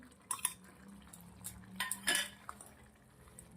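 Metal spoon clanking and scraping against a cooking pot while stirring tanka bhaji greens, a handful of sharp close clinks spaced irregularly over a low background hum.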